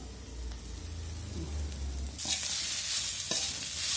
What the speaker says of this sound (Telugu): కొత్తిమీర, పుదీనా వేసుకుంటున్నాను.